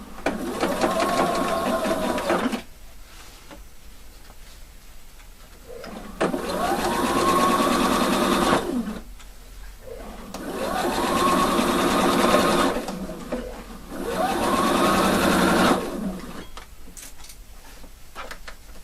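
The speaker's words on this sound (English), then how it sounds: "Now I stitch it all the way 1 centimeter." A sewing machine stitches a 1 cm seam on a shaped waistband in four loud, close bursts of rapid mechanical whirring, each lasting a few seconds, separated by brief quieter pauses.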